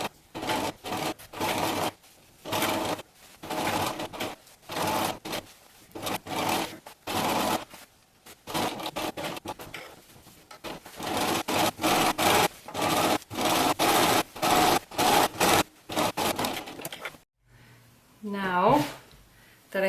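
A sewing machine stitches a gathered skirt onto the bottom of a t-shirt for a witch costume, in many short start-stop bursts of close mechanical whirring, with a brief spoken moment near the end.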